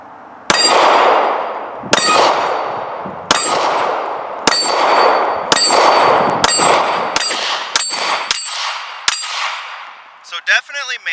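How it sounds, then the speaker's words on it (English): Nine sharp gunshots from a revised Sig P365 subcompact pistol crack out at a measured pace, each loud report ringing briefly with a metallic clang, followed by faint rattling at the end. "see what the recoil impulse looks like when I shoot it"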